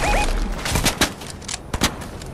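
Video game gunfire: a run of sharp, close shots in uneven bursts, loud and with little talk over them.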